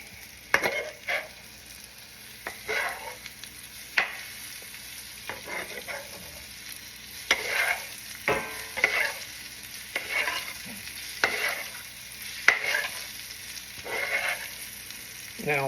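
Filet mignon fries in a pan while butter is spooned over it, a soft continuous sizzle broken by repeated spoon scrapes and splashy basting bursts every second or two.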